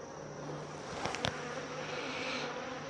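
Honeybees buzz steadily around an opened backyard hive in mid-August, a faint continuous hum with a few brief louder passes as bees bounce off a hand held over the colony.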